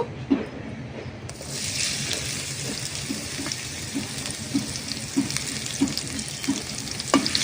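Chopped onions dropped into hot mustard oil burst into a loud, close frying hiss that holds steady with bubbling crackle and occasional stirring knocks, no voices.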